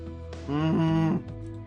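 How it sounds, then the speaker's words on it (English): A cartoonish cow moo from the game Choices: Stories You Play, a single drawn-out bovine low lasting under a second, clear and close over a faint background. "The cow agrees."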